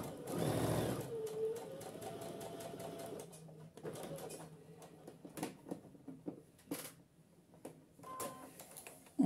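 Domestic sewing machine stitching darts on a blouse, with quiet, intermittent bursts of stitching and small handling clicks and taps in a calm room; a short, louder thump comes near the start.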